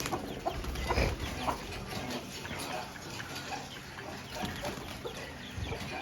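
Chickens in a yard that also holds partridges and peacocks, clucking at moderate distance amid busy outdoor background noise, with a few soft knocks and faint voices.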